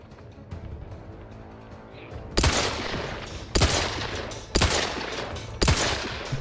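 Gunfire in The Outer Worlds 2 during a firefight on the hardest difficulty: four heavy, close gun blasts about a second apart, each with a booming tail, over a low background hum of game ambience.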